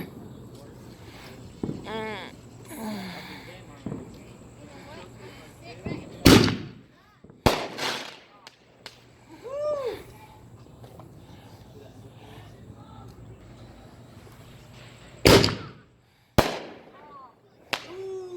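Fourth of July fireworks burst close overhead with a few loud, sharp bangs spaced several seconds apart, and softer whistles and crackles sound in between. People talk quietly through the gaps.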